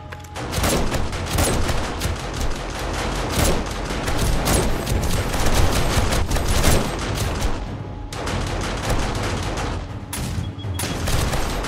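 Shotgun turret firing repeatedly in the zombie survival game 7 Days to Die, a dense, loud barrage of overlapping blasts and booms that continues almost without pause, with brief gaps near the end.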